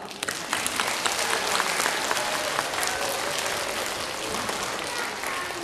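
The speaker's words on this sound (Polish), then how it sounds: "I za to należą im się ogromne brawa" A crowd at the opening of a spring ecology festival applauds, a dense, even wash of clapping with a few sharper claps standing out, held at moderate volume throughout.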